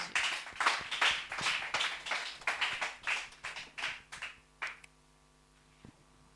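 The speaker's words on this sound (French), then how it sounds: "On acclame pour dire merci à Dieu." A church congregation claps together in rhythm to thank God, giving a steady run of loud, close, crisp claps that thin out and stop after about five seconds, leaving near silence with a faint low hum.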